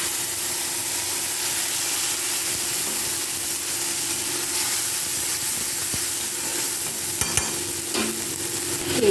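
Onion and garlic fry in oil for a mango chutney katla fish dish, a steady close broadband sizzle with soft stirring scrapes and a couple of brief clatters near the end.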